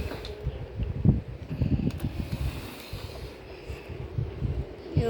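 Japanese-made 1986 box fan in smooth running condition, a soft steady whirring hum with faint rustling and a few light knocks and handling sounds close by.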